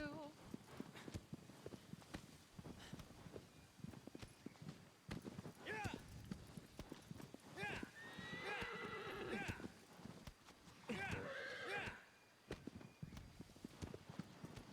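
Horse in Shadow of the Colossus, hooves clip-clopping along a narrow path with two loud neighing whinnies in the middle, while a player talks over it.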